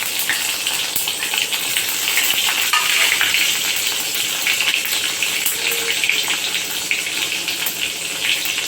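Mustard seeds, cumin, fennel, dried red chilli and fenugreek frying in hot oil for sambar give a steady, dense sizzle with fine crackling throughout, loud and close, without talk.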